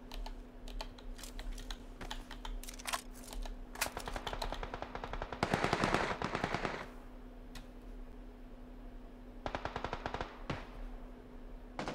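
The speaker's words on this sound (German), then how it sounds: "Irgendwo schießt einer." Gunfire in the PUBG battle royale game, sharp rapid popping bursts at moderate distance in several clusters, with the heaviest burst midway, over a steady low hum and no speech.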